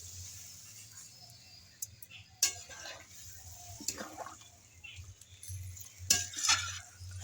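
A lid clinks onto a pot of thin rui fish curry with papaya, potato and flat beans in a home kitchen. A few scattered metallic taps and clanks sound over a low steady hum, with the loudest knocks near the end.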